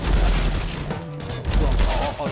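Rapid pistol gunfire from a CZ handgun in the video game Counter-Strike, a loud burst of close shots layered over game noise and commentary.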